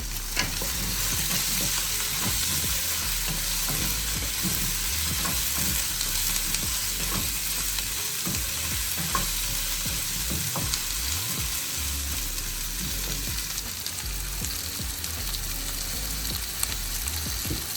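Eggplant pieces frying in a pan for a crab gravy, a continuous loud sizzle with scraping and stirring clatter throughout, no talking.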